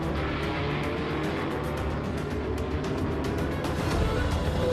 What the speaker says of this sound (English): comes the rest of the pack, 2 Ferrari P4s and 2 Fords